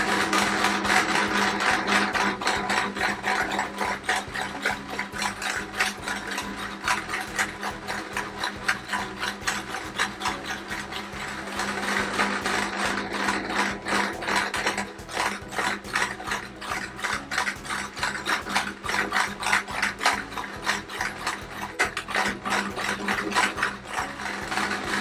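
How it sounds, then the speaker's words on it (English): A sewing machine runs a zigzag stitch around appliqué pieces on a patchwork quilt, a close, steady rapid mechanical chatter with rhythmic clicking that carries on without pause for the whole stretch, no speech. "today I'm going to stitch around all of his pieces with the sewing machine."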